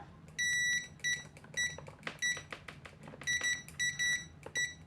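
Continuity beeper of a DIGT DT87 budget multimeter tested with its stock probes: a series of short, loud, high-pitched electronic beeps in irregular bursts of varying length, with faint handling clicks between them.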